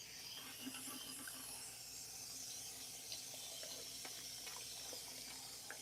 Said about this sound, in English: we're going to rinse her with cool water